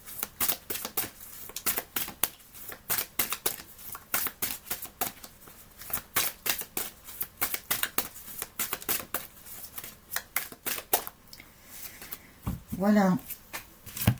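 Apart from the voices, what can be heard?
handling and shuffling large oracle cards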